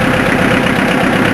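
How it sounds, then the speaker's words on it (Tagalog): Two engines of a river ferry boat on the Cagayan River run together in a loud, steady, close drone with a low knocking throb and no pauses or talk. "Dalawang makina po pinapandar."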